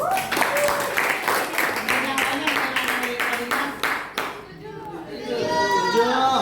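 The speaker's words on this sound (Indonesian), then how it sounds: "Oke, sip, bagus, tepuk tangan dulu." Students in a classroom clap their hands in a quick series of sharp claps, then the clapping dies away and children's voices take over near the end.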